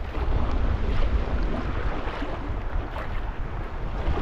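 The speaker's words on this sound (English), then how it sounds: "there's a nice breeze on the water now as well" A southerly breeze blows over the water at Ballaugh Beach on the Isle of Man, making a continuous low, rushing roar against the microphone with no pauses and no voices.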